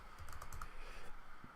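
Keys clatter on a computer keyboard in a quick burst of typing, close and fairly quiet over a low background hum, with no talk.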